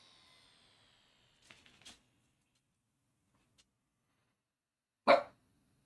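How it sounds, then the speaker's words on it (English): A single short, sharp bark from a dog named Mr. Bear in a quiet indoor room, preceded by a few faint clicks and taps. "Why are you barking at me?"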